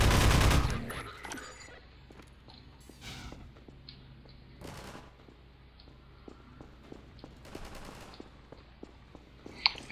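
Turret gunfire in the video game Half-Life 2, opening with a loud burst and followed by repeated rapid volleys and scattered sharp shots at moderate distance, with brief gaps between bursts.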